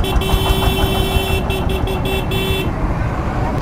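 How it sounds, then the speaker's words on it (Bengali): Road traffic jam with a long line of vehicles, heard from a motorbike: engines idle and rumble continuously while a car horn sounds in a long blast and then several short toots, close by. "পুরা সিরিয়ালে গাড়ি ঘোড়া।"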